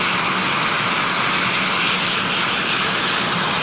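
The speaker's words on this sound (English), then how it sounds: "As you can see, the plane is ready to take off." A propeller plane's engine runs steadily and loudly on an airstrip before takeoff, a constant dense roar filling the whole stretch with no talk.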